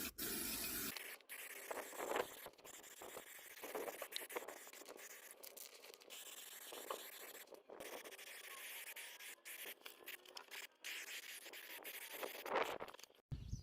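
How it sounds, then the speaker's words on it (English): Etch primer sprays from an aerosol can inside the wheel arch of a VW Jetta Mk2 in a series of close, steady hissing bursts separated by brief pauses. "So now all we're using is some etch primer to cover all the inside of this arch."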